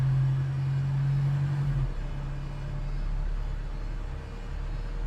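A Streetdeck double-decker bus in a bus simulator game runs with a steady low engine drone, a strong idling hum that drops away after about two seconds, leaving a continuous rumbling motor throughout.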